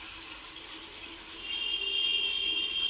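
Water pours and splashes steadily while bulls are washed after cart-pulling practice. The flow is moderate at first and grows fuller and louder halfway through.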